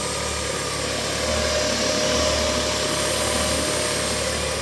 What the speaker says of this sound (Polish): włączył nam się tu wentylator.